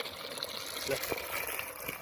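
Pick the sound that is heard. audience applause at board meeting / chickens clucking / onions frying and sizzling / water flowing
water flowing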